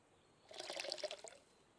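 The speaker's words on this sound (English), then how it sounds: "Let's go fill up the water can and we'll take a drink ourselves." Water pouring into a water can in the survival video game CryoFall, a quiet, short burst of trickling liquid lasting about a second, faint and alone.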